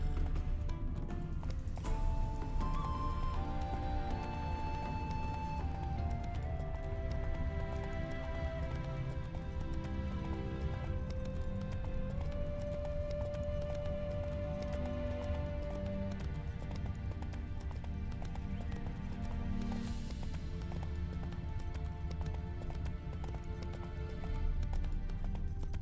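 Horse hooves galloping in a steady clip-clop from The Witcher 3 game, sustained throughout over a backdrop of orchestral music and ambient tones.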